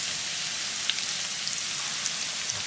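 Pounded onions fry until crisp in hot oil for sambal belacan fried rice, giving a loud, steady, dense sizzle with occasional small pops and no break.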